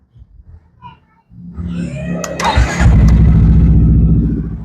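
A few quiet clicks, then a Yamaha XMAX 350cc scooter engine cranks and catches, revving briefly before settling into a loud, steady, close-up running putter.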